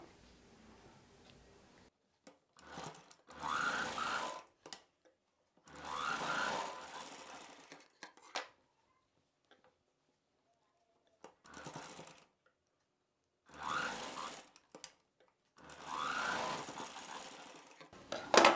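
Sewing machine stitching together the shoulder seams of a child's summer cotton frock, running in several separate bursts with quiet pauses between them, close and fairly loud, with no talking.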